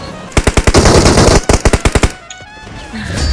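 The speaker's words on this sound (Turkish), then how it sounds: "40 mermiyi boşaltacağım onu." Machine gun fire in the video game PUBG, two loud close rapid bursts of about ten shots each, separated by a brief pause, followed by quieter game ambience.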